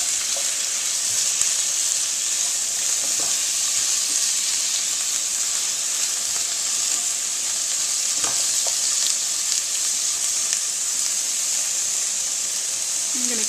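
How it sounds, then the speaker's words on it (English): Extra firm tofu browns in a frying pan, giving a steady, dense sizzle and hiss throughout with faint stirring clicks, close up. "we're just getting a little bit of a brown on the tofu"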